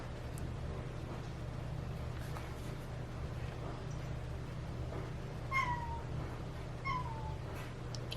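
A pet cat indoors meows twice in the latter half, each meow a clear, falling call at moderate volume over a steady low room hum, with no talking.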